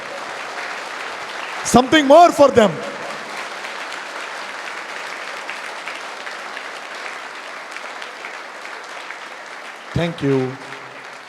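Students at a college session clap for their parents, a steady broadband round of applause filling the room throughout, with brief bursts of speech from a man early on and again near the end.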